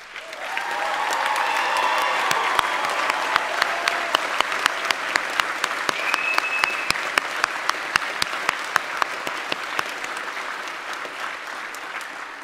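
Audience applause at a college commencement honoring military veterans: a broad swell of crowd clapping that builds quickly and holds, with sharp individual claps standing out near the microphone in a loose, rapid rhythm.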